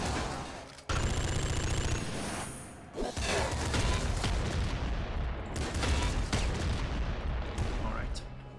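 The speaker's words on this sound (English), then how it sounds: "let me get the auto shotgun here" Auto shotgun fire in a video game, dense, loud and sustained, with rapid blasts running almost the whole time and a short pause near three seconds.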